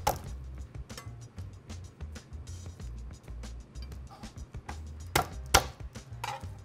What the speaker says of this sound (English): garlic cloves. We're gonna smash these just so that releases their flavors.